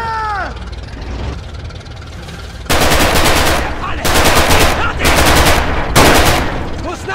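Rapid machine-gun bursts and gunfire crack loudly in a Red Orchestra 2 Stalingrad battle, four or five dense bursts over a rumbling tank engine, with shouted voices early on.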